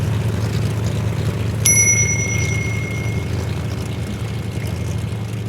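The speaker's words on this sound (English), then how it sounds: "Check my bell." A bell on a Terra Trike recumbent tricycle gives a single bright ring that hangs and fades over about a second and a half, over a steady low outdoor rumble.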